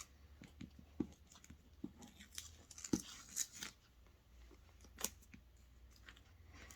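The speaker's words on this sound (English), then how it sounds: "now we're going to cut out the applique" Scissors snip out a fabric applique at close range, with scattered quiet cuts and rustles of cloth, irregular and soft.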